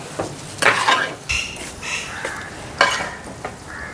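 A spoon stirs and scrapes through a Vishu katta rice mixture with salt and cumin, giving intermittent scraping and clinking strokes, close by, with no talking.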